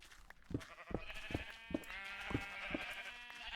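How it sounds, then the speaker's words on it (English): Minecraft sheep bleat loudly in a quick series of about six calls spaced roughly half a second apart, each a short wavering cry, with a bright tonal game sound layered behind them. "The sheep are really loud."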